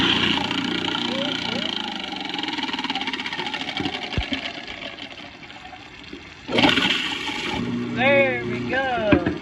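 Running water rinsing ice bits down a kitchen garbage disposal, a steady rushing flow under a speaking voice, surging louder near the end.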